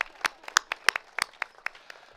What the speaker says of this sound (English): another round of applause for Anna